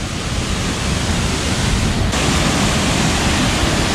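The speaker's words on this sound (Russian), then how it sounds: "Мы подошли к еще одному водопаду." A roaring waterfall with three tiers near Dombay, dense and loud broadband rushing that fills the whole clip without pause, close by.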